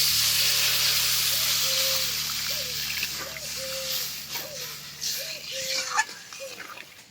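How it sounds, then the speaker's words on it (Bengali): Water hits hot fried spice paste in a pan for a Bengali fish curry, producing a loud hiss that fades into bubbling, with splashes and voices speaking over it. "এবার দিয়ে দেব জল।"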